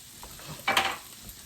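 Hash brown potatoes frying in a pan, a quiet sizzle with a brief louder stir and scrape near the middle, close and with no voices.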